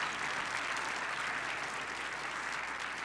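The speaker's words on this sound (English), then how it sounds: "Give them a round of applause." An audience at a city State of the City address claps in a steady, even wash of applause that carries at moderate volume throughout without cheering.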